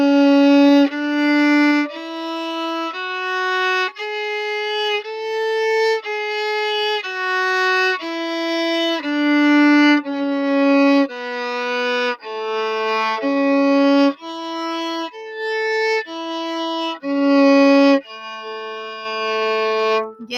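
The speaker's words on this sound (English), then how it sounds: "So I'm going to play the lower version for the violins, starting on that low A." Violin playing a slow stepwise warm-up scale that begins on its low A, about a dozen sustained bowed notes in a steady rhythm, rising and then falling, loud and close with no talking.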